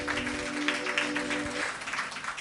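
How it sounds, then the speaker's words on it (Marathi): A church congregation claps in praise, a dense, steady wash of many hands heard over a sustained keyboard chord that fades out partway through. "जरा जोरदार टाळ्या प्रभूच्या गौरवासाठी."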